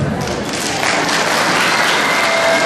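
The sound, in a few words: audience applause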